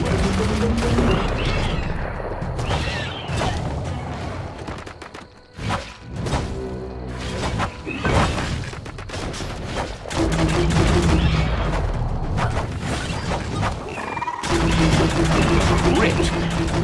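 Video-game gunfire in Biomutant: dense, loud bursts and rapid shots crackle almost nonstop, with whooshes and thuds mixed in and a voice speaking over parts of the fight.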